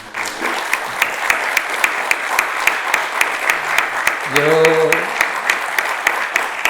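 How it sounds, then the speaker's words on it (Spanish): An audience at an author event applauds, with spaced individual claps ringing out over a steady clapping bed, while a voice speaks briefly partway through. "la forma que tenemos aquí de agradeceros a los autores que estéis es con el fuerte aplauso que te vamos a dar ahora mismo"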